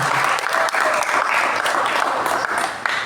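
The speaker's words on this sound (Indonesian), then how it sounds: "Tepuk tangannya, salam." Classroom students clapping for a classmate after a digital-literacy presentation, a steady, fairly close patter of many hands lasting about three seconds with no voices.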